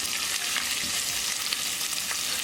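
Ginger, garlic and green chili sizzle in hot oil with cumin seeds for a moong dal tadka, a dense continuous hiss with soft crackles and faint stirring, no talking.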